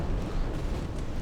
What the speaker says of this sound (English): Same deal, a fire, explosion, and there you go